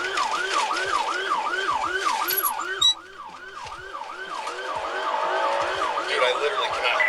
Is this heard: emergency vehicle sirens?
yes